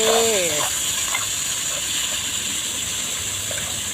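Pork sizzles and hisses in a hot wok while being stir-fried for a Thai pork and eggplant curry-paste stir-fry, a steady close frying crackle with brief speech at the start.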